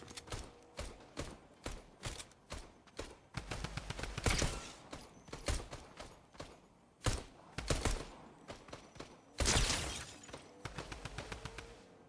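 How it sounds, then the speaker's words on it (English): Rapid gunfire from a Fortnite match crackles in bursts and sustained volleys, with sharp repeated shots and occasional louder blasts, fairly close and with no voices over it. "there was somebody else shooting at them because they just kept going at it"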